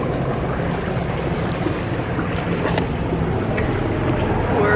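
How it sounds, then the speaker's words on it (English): A gondola gliding along a canal in Venice, with steady broadband water and wind rush throughout and faint voices beneath. "We're on a gondola ride."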